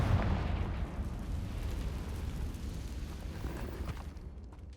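A Confringo blasting spell exploding in Hogwarts Legacy, with a loud booming burst at the start that trails into a long, rumbling, crackling roar that slowly fades.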